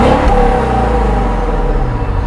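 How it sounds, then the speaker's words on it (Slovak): A Mercedes-Benz S500 4MATIC long-wheelbase sedan with a 455-horsepower V8 biturbo engine pulls away under acceleration, a loud, continuous deep rumble with rising engine tone, heard from close by. "Jedná sa o motor V8 biturbo so zvukom, ktorý vo vás vyvoláva mierny orgazmus"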